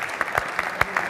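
A small audience at a productivity and economy talk gives brief, sparse applause, with a handful of distinct claps in quick succession.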